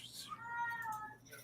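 A cat lets out one clear, drawn-out meow close by, with people talking around it.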